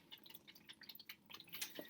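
Water running from a torn bag into a big plastic bowl, heard as quiet scattered drips and small splashes that build toward a brighter splash near the end.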